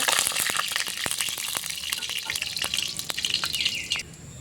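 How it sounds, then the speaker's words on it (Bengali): Whole cumin, two dried red chilies and two bay leaves crackle and sizzle in hot tempering oil for a moong dal and ash gourd dish, with sharp popping spits and scraping stirs close by throughout. "ফাটিয়ে নেওয়া দুটা শুকনো লঙ্কা দুটা তেজপাতা ফোড়নটা একটু একটু নেড়ে ফেলে দেব"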